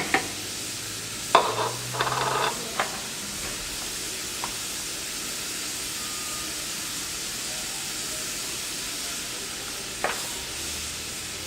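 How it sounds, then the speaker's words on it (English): Baby portobello mushrooms simmer with salt and pepper in a pan for chicken marsala, a soft, even hiss running throughout, with a few clunks and brief scraping at the start and one more tap near the end. "Next we want to take and add our baby portobello mushrooms. We want to let these simmer for a few minutes"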